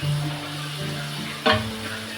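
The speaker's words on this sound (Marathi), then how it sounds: "आपण असंच एक दोन मिनटं असं परतून घ्यायचं" Radish sabzi with grated coconut being sautéed in a pan, giving a steady low sizzle with a brief louder scrape of the spatula midway, close and without talk.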